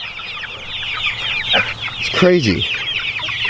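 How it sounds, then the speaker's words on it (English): Backyard chickens cluck and chatter steadily while being herded, their busy calls close and continuous, with one louder squawk mid-way and someone speaking briefly over them. "the hardest time to move the chickens is when they find a bug"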